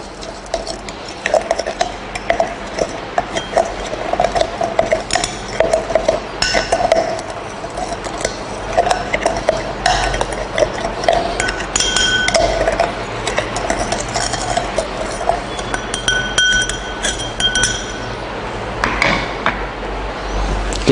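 A spoon stirring chocolate powder in a glass with a little liquid while making a cocoa drink, giving a steady run of quick metallic clinks and scrapes against the glass for about twenty seconds, with no talking.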